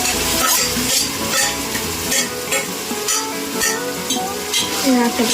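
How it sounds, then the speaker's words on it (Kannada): Tomatoes fry in a pan with mint and coriander, a loud steady sizzle broken by repeated scraping stirs of a spoon against the pan, close up and without talking. "ರೆಡ್ ಆಗಂಟ ಸ್ವಲ್ಪ ಟೊಮೊಟೊನ ಚೆನ್ನಾಗಿ ಹುರ್ಕೊಂಡ್ರಿ"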